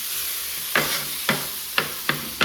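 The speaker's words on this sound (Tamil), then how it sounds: "போட இதெல்லாம் போட்டு முட்டையை இடுங்க. முட்டை கொஞ்சம் வதங்கட்டும்." Egg is stirred in a hot pan while cooking a Madurai-style country chicken salna, with a soft sizzle under five crisp spatula scrapes spaced about half a second apart, close and alone.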